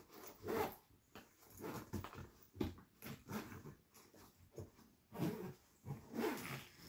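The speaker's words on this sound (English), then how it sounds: "start to zip." A zipper drawn closed around a packed carry-on travel bag, heard as a run of close, quiet, ragged zipping strokes with short pauses between pulls.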